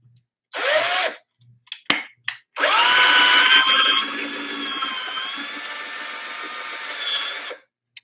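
A cordless power drill spins up in a short burst, then after a few clicks runs in a long steady whine lasting several seconds before cutting off, close and loud.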